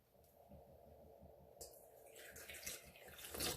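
Warm water pours into a bowl for bread dough, a steady splashing trickle that grows louder and fuller toward the end, close and alone.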